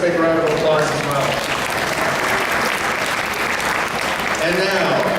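A big round of applause from a theme park pass-member preview audience, thick and sustained clapping at steady loudness, with a host's voice briefly audible at the start and end.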